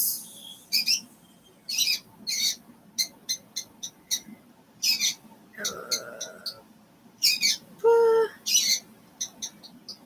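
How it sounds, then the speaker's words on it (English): A pet lovebird squawks loudly and repeatedly in sharp, close bursts, with a few longer harsh calls between, mixed with quieter chirps and faint background voices. "It's a lovebird. Usually isn't that noisy."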